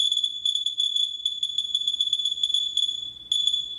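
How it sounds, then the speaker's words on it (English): A radiation detector reacts to natural background radiation, emitting a rapid, irregular run of sharp electronic beeps or clicks that continues steadily, close and fairly loud, with a short gap near the end. "the detector sounds even when there is no radiation source is because radiation exists in nature"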